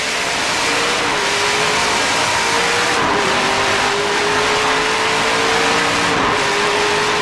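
Pickup race trucks of the 2009 NASCAR Camping World Truck Series roar around the Trois-Rivières street road course, a loud, dense, unbroken engine drone with pitch swells and dips through gear changes.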